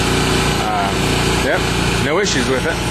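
A homemade truck APU engine idles with a steady, buzzing hum that runs underneath someone talking close by.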